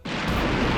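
A single loud, sharp firecracker bang bursts out during Diwali and rolls into a booming rumble that lingers briefly.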